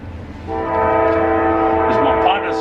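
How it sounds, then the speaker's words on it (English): A train horn sounds a loud, sustained chord close by at the DeQuincy Railroad Museum, sounding steadily for a couple of seconds, with rumbling rail noise beneath it and a voice briefly audible. "I hear a horn. You hear it?"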